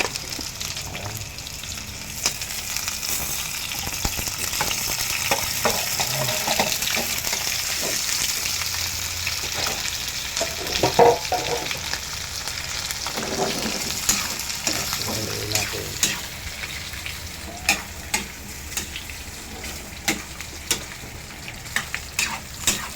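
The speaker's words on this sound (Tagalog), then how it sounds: "At i-mix na po natin yung karne ating pinatuyo ang mantika." Pork for homemade humba frying in its own rendered oil, a sustained close sizzle broken by repeated clacks and scrapes of a spatula stirring the meat, ticking more sharply toward the end.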